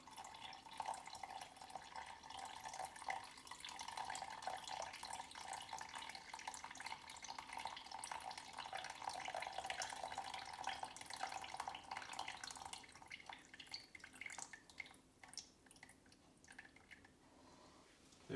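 A steady stream of 30°C water pouring into a bowl on kitchen scales for sourdough, continuous and close, running for a long stretch before tapering off near the end.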